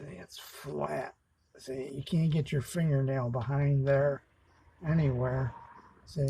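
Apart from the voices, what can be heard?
No everyday noise stands out behind the speech.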